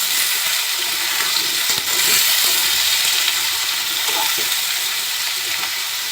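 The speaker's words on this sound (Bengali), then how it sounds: "কলা আর আলু কেটে রেখেছিলাম তেলের ভিতরে দিয়ে দিলাম" Pieces of raw green banana and potato hiss and crackle steadily as they fry in hot oil in a pan, a close, continuous sizzle with no talking.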